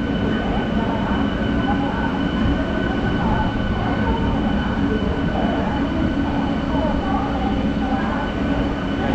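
Chennai–Tirupati MEMU passenger train running near Tirupati station, a steady loud rumble of wheels on rails with a faint high whine, heard continuously from on board.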